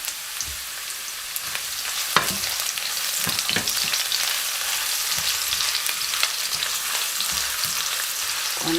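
Ginger sizzles steadily in olive oil sauce in a hot pan, a bright continuous frying hiss broken by occasional stirring clicks and scrapes, close and fairly loud with no talking.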